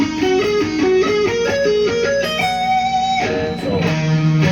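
An ascending pentatonic run on guitar in one position, played with economy picking: quick, evenly stepped notes rising in pitch, close and clear with no talking.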